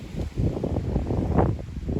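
Gusty wind buffets the microphone on a mountain trail along the GR20 in Corsica, a steady low rumble with stronger gusts near the middle of the clip and no voices.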